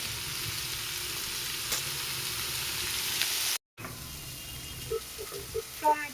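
Potatoes, onions, beans and carrots fry with a black cumin tempering, giving an even, soft hiss. After a short break the sizzle returns quieter, with a few light clinks and brief voice sounds.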